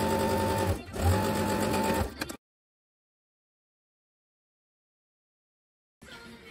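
A sewing machine stitches graduation stole fabric in a fast, steady whir with a brief dip, then stops for several seconds of silence before starting up again.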